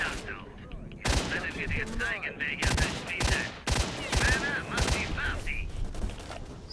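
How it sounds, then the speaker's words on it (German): Rapid bursts of enemy gunfire in the video game S.T.A.L.K.E.R. Shadow of Chernobyl, set in Pripyat, come as loud, repeated volleys and single shots with a voice talking between them. "Oh, die schießen echt nicht schlecht, die Typen."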